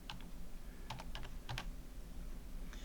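Computer keyboard typing in short scattered bursts of clicks, close and fairly quiet over a steady low hum, with no speech.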